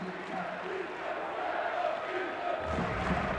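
Basketball arena crowd at an Iowa State versus Texas Tech college game, a sustained roar of cheering and shouting that swells near the end, dense and continuous.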